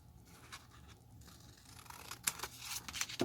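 Scissors snip through paper while a paper tag is cut down the middle, giving a few crisp, close cuts with a soft rustle of paper between them.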